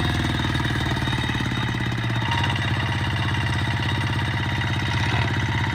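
A heavy tractor engine chugs steadily with a rapid, knocking rhythm, loud and close, running continuously without pause, while the tractor helps push during a cassava harvest.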